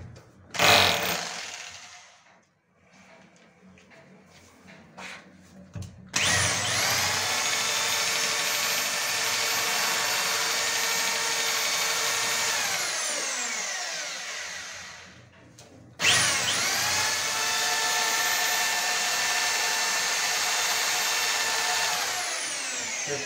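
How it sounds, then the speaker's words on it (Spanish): Power drill fitted with a quarter-inch masonry bit bores into a bathroom wall for anchor plugs, two sustained whining runs of several seconds each, loud and close, with a steady high-pitched grind and a brief pause between them. "Esta broca de muro es de cuarto y es para el chazo que trae el mismo sistema de accesorios."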